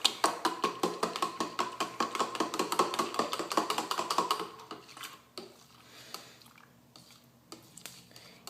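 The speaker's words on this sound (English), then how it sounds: "you're just going to want to mix it until your lanolin is all broken up" A spoon clinks rapidly and rhythmically against a cup while mixing lanolin, quick close scraping taps for about four seconds before slowing to a few softer, scattered knocks.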